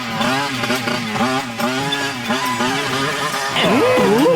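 Cartoon motorcycle speeding up, a loud buzzing engine drone with pulsing revs that climbs sharply in pitch near the end, heard alone without talk.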